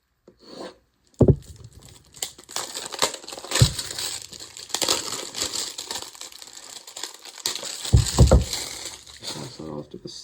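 Plastic packaging on a black Fintiso folding knife is ripped open in irregular bursts of crinkling, tearing and rubbing, loud and close, with quieter pauses between pulls.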